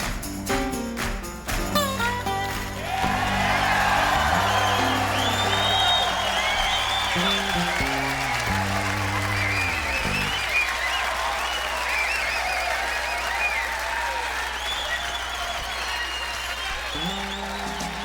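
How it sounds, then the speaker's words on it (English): A crowd in the 7 Days to Die game claps and cheers loudly and continuously, a steady wash of applause that starts under a few sustained musical notes and carries on alone. "Cheering for me."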